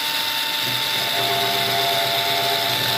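A steady electric drill motor whines continuously at high pitch, loud and close, with a constant buzzing hum and no pauses, its plastic housing touched against a sensor.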